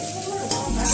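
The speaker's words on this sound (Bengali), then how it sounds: "ততক্ষণ আমরা ভেজিটেবলটাকে ফ্রাই করতে থাকবো।" Vegetables for egg vegetable chow mein are stir-fried with sauces, salt and sugar in a pan, loud close sizzling with scraping stirring that grows heavier toward the end.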